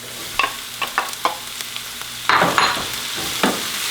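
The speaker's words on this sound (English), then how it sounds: "I'm gonna add the corn." Canned, precooked corn hits a hot frying pan with zucchini, a burst of sizzle follows, and spoon scrapes and taps come through as the kernels are stirred, close and without talk.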